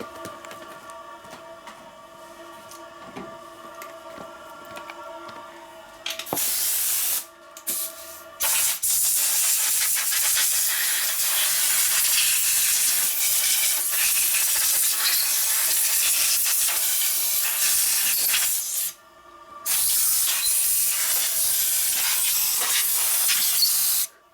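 Loud bursts of compressed air hiss and blast in long sprays, blowing debris off 1972 Harley-Davidson XLCH Sportster engine parts, broken by short pauses, with a faint mechanical hum between them.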